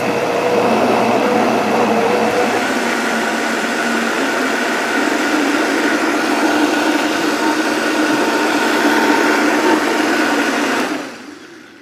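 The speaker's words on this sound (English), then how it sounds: "you can blend and you can push stuff down at the same time" A blender runs loud and steady for about eleven seconds while a tamper pushes vegetable bisque down into the blades, then cuts off abruptly near the end.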